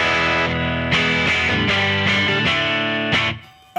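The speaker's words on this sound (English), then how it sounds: "So as a sort of slightly overdriven clean now on the bridge." Electric guitar on the bridge pickup played slightly overdriven clean through a Line 6 US Dripman Nrm bass amp and cab model, about five ringing strummed chords that sustain and decay, heard alone.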